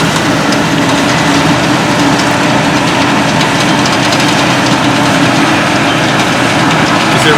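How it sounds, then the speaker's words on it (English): A heavy Claas Lexion 430 Evolution combine harvester engine drones loudly and steadily throughout, a dense continuous roar with no pauses during harvest. "It's a really good combine."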